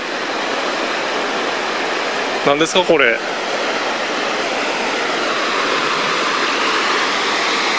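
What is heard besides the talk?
babbling river stream at Shima Onsen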